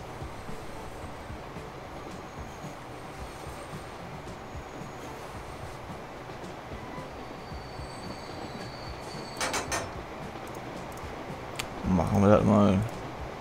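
Trains run through a station in the rail-building game Transport Fever, a low, steady rumble of rolling wagons with faint wheel squeal and a louder clatter near the end.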